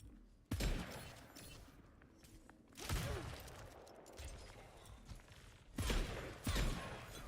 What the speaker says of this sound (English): Angel firing shots from up top.